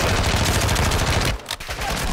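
Heavy gunfire in Call of Duty Modern Warfare 2, loud continuous rattling bursts that drop out briefly near the end before resuming.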